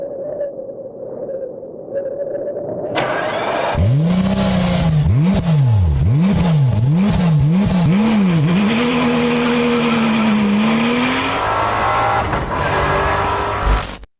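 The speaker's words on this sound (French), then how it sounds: "j'ai jamais entendu un V12 qui faisait un aussi beau bruit que ça" A 6-litre V12 car engine starts and revs hard repeatedly, its pitch swooping up and down in quick bursts before settling into a loud, rising drone.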